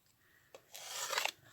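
Scissors cutting thin, inexpensive craft felt, a short snip followed by a longer dry rasping cut, close and quiet with no talking.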